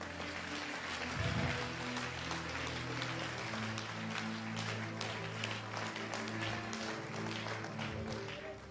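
A church congregation at a conference in Abidjan applauds and cheers steadily throughout, a dense wash of clapping with music or voices beneath.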